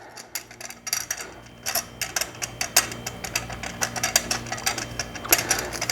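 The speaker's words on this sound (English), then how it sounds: "So I'm just going to thread this, put the slide hammer on." Metal slide hammer threaded into a transmission front pump seal, giving a run of sharp, clacking impacts in a quick, uneven rhythm, close and fairly loud, with no talk over it.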